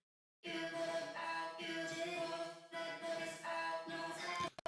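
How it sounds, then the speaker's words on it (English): Synth chords play in sustained phrases with a short, subtle reverb tail, then cut off abruptly near the end. "A small reverb."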